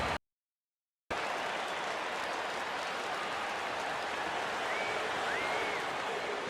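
Stadium crowd in the baseball video game MLB The Show 16 on PS3 during a Toronto Blue Jays game, a steady broad roar of cheering after a brief dropout of silence at the start.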